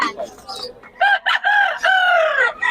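A rooster crows loudly and close at a poultry market in Bocaue, a drawn-out call after some clucking and background chatter.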